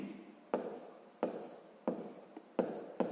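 Pen strokes write on paper during a sixth-grade math exercise, five or six short scratchy bursts in an uneven rhythm, close and fairly quiet.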